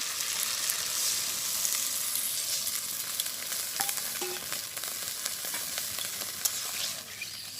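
Water goes into a hot pan in a village kitchen and raises a steady, moderate hiss of sizzling and bubbling that holds for several seconds, with scattered small pops and clicks and no voices.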